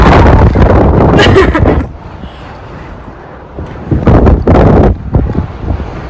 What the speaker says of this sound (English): Small wind.